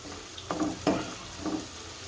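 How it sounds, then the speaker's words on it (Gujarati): Green chilies sautéing in a little hot oil for a Gujarati urad dal shaak, a soft steady sizzle with a few brief stirring scrapes, close and fairly quiet, no talking. "મરચાંને થોડુંક સાતળવા દેવું મરચું"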